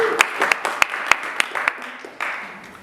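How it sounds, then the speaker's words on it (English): An audience at a conference session gives a short round of applause, with sparse, distinct claps near the microphone that fade toward the end. "Let's give her a round of applause."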